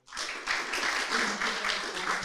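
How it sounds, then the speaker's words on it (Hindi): An audience at an agricultural television programme breaks into applause to welcome the expert guests, many hands clapping steadily and evenly from the first moment to the end with no speech. "सबसे पहले हमारे जो एक्सपर्ट्स इस कार्यक्रम में मौजूद हैं उनका जोरदार तालियों से स्वागत करते हैं"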